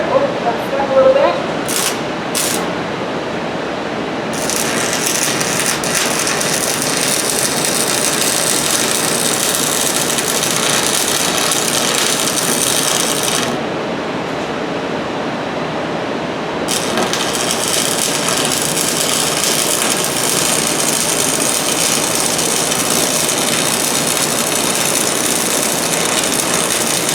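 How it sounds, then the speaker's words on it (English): An arc welder lays beads on metal, giving a steady crackling, buzzing hiss that runs for several seconds, stops briefly, then resumes, with a few sharp ticks at the start and no talk over it. "Now I am going to try to weld over here."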